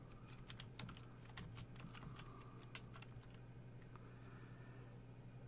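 Typing HTML code on a computer keyboard, keys clicking in quick irregular bursts, quiet and close, over a low steady hum.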